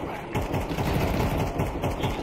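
Gunfire rattles in a first-person shooter game, a quick run of sharp repeated shots in an irregular burst that is loud and close, with no talk over it.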